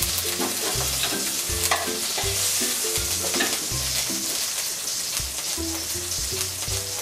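Chopped green chillies and nigella seeds fry in hot oil in a kadai, crackling with a dense, loud sizzle, while a spatula stirs in repeated rhythmic scrapes against the pan.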